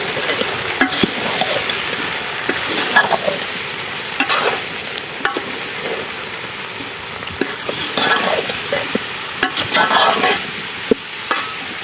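Lasoora pickle being stirred with salt, turmeric and red chilli, a steady scraping and mixing in a pot with faint sizzling, continuous with irregular louder strokes, no talk.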